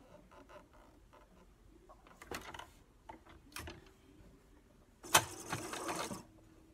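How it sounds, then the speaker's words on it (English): A sewing machine stitches up the other side of a piece in short, separate bursts, with a louder, busier run near the end; no one speaks over it. "Then I'm going to sew up the other side."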